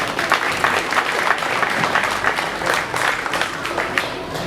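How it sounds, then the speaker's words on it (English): Audience at a county fair 4-H and FFA meat goat show claps in steady, dense applause for the exhibitors, filling the whole stretch without talk. "Let's give those exhibitors a nice round of applause."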